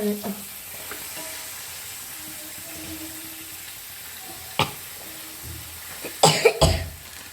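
Washed chicken pieces for a chicken curry hit hot oil in a pan, starting as a constant background sizzle that breaks into a louder burst of clatter and spitting near the end, with a brief cough partway through.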